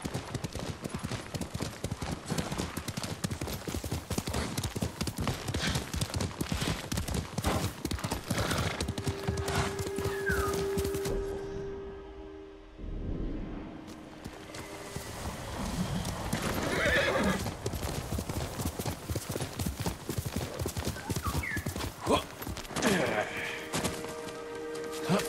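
Rapid galloping hoofbeats drum continuously with a horse neighing now and then in Ghost of Tsushima, briefly dropping away before the gallop resumes, with a voice talking over it.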